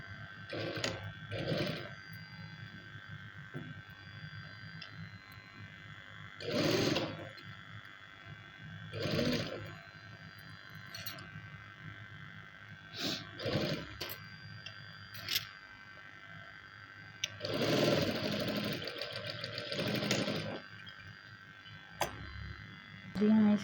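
A sewing machine runs in several bursts while stitching fabric, each run a few seconds of rapid rhythmic clatter, broken by pauses in which a person talks.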